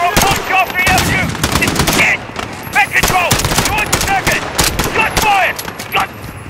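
Rapid gunfire crackles in Call of Duty Modern Warfare during a London terrorist attack scene, sharp shots and bursts tumbling close together while voices shout between them.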